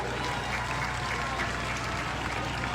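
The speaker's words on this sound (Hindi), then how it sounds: "इसके लिए मैं जोरदार ताली आप सबसे चाहूंगी।" A crowd at a Congress political rally in Rajasthan applauds steadily, a dense, continuous wash of clapping at moderate level with a constant low hum underneath and no break for the full stretch.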